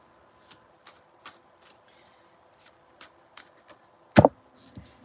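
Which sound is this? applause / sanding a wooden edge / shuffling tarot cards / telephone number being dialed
shuffling tarot cards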